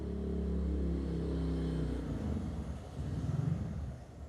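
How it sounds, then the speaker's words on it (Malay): A vehicle engine rumbles steadily nearby at night, then fades as it passes, followed by another lower rumble approaching; no voices. "Sekejap bunyi kereta lalu, sekejap bunyi lori lalu, motor lalu"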